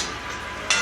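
Onions and tomatoes sauté in a pan for a chickpea rice dish, a steady close sizzle with a brief stirring scrape near the end.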